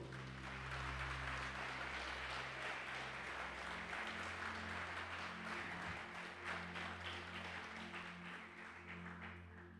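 A church congregation applauds steadily and loudly, a dense sustained wash of clapping with music droning beneath.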